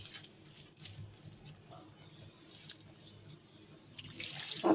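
Tap water runs faintly in a home kitchen for hand washing, a soft continuous trickle with low background noise that swells briefly at the end.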